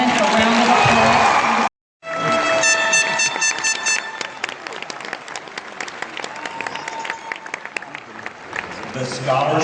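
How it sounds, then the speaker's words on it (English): Loud, sustained applause and cheering from a large crowd honoring graduating Marines at a Hardin Valley Academy graduation ceremony, with horn blasts and whoops layered over the clapping throughout. "Let's give these young men and women a round of applause."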